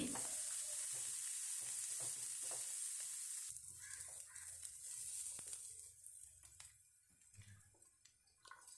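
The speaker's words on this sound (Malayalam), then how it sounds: "നമുക്ക് ഈ സവാള ഒന്ന് ചെറുതായിട്ടൊന്ന് വഴറ്റിയെടുക്കാം" Chopped onion sautés in a pan for creamy white sauce pasta, first as a soft, steady sizzle, then thinning into scattered stirring scrapes and light taps, quiet and close.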